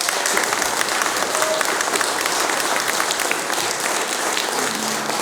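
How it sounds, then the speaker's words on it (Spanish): An audience at a performance of traditional pirekua music applauds the announcer, a master of ceremonies, with sustained, dense clapping that holds steady and slightly eases toward the end. "Un aplauso para el paisano."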